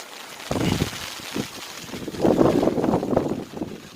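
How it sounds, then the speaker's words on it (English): Wind buffets the microphone in rough, low gusts that swell and fade, loudest near the end, with no talking. "Oh, it's a bit windy today, I know."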